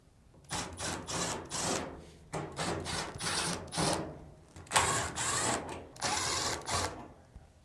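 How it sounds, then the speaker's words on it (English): Screws are backed out of the front drum assembly of a Samsung dryer with a power driver, several short buzzing whirs in bursts separated by brief pauses, close and alone. "Now, remove the 4 screws on the front drum assembly."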